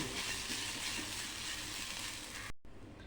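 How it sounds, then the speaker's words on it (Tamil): Grated coconut roasting in a pan for coconut rice, a steady dense sizzle and crackle close by that runs nearly unbroken before a brief cut near the end. "இப்போ தேங்காய் துருவி நல்லா பொன்னிறமாக வறுத்து எடுத்துட்டேன்"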